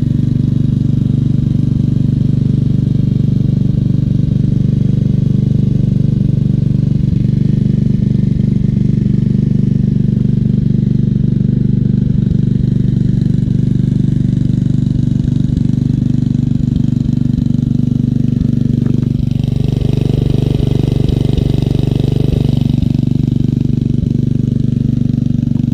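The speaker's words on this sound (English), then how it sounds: "Engine sounds really good." A Toro Super Recycler Personal Pace lawn mower with Spin Stop runs steadily at a close, loud, constant idle-like drone with a slight clattery texture, continuing unbroken for the whole stretch with no talking.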